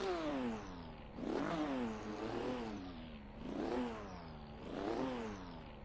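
A Corvette C8R race car engine in Assetto Corsa revs up and down three times in a steady rhythm, raspy and rumbling underneath with a high squealing top end, loud and close with no talking.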